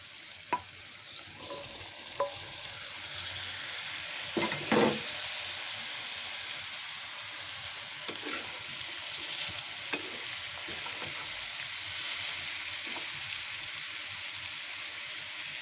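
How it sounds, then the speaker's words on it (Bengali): Thinly sliced bitter gourd fries in hot oil with a steady, dense sizzle, broken by a few short stirring scrapes and clinks of the spoon against the pan. "এটা ভালো করে তেলে ভেজে নিব"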